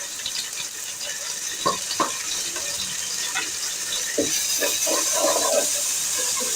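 Onion masala with ginger garlic paste frying in a pot for Lahori chargha biryani, a steady close sizzling hiss with occasional stirring scrapes and bubbling pops.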